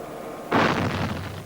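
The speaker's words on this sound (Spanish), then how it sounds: "Fuego de artillería." Artillery fire in Vietnam War footage: a single sudden booming blast that decays over about a second, alone with no talk.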